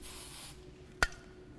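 A single half-second hiss of hairspray misted onto a pinned bridal updo, followed by quiet and a brief sharp click.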